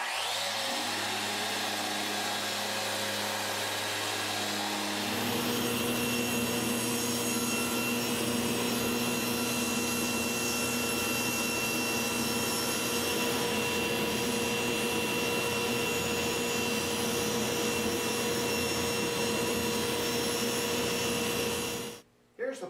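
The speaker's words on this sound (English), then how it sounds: "got a little 220 sandpaper on my Rotex sander. Just go ahead and sand it down some." A Festool Rotex sander fitted with 220-grit sandpaper runs steadily on a wooden display cabinet part in a furniture workshop, a loud continuous whirring drone that rises in pitch after a few seconds and cuts off at the end.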